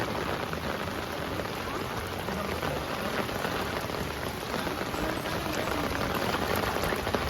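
Heavy rain pours steadily during Super Typhoon Carina over a flooded street on Dapitan St in Sampaloc, a dense constant hiss of drops and rushing water with no break or talk.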